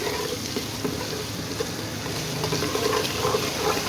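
Eggs frying in a pan for egg curry are gently stirred with spices, producing a steady dense sizzle and bubbling hiss with faint scraping underneath, continuous and close without pauses.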